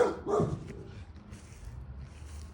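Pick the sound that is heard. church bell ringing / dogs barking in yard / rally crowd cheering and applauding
dogs barking in yard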